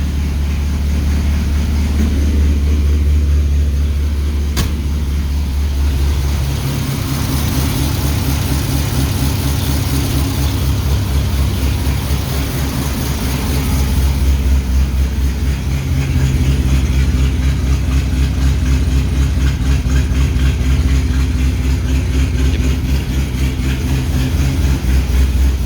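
An old Pontiac or Renault engine idles on heavy choke just after a cold start, a loud, steady low rumble that hunts slightly in speed and swells louder around the middle and end, with no one talking.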